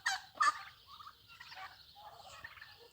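Two sharp, close gobbles from a turkey standing on a road, followed by a run of quieter clucks and warbling calls that fade in and out over faint background hiss.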